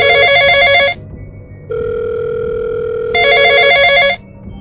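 A telephone rings loudly and close in two trilling bursts, separated by a steady electronic tone, with no voices.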